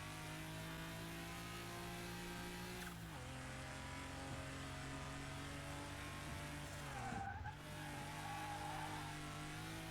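A car in Car Mechanic Simulator 2021 drives on a race track with a steady engine drone, rising and dropping through gear shifts, and faint tire noise under it.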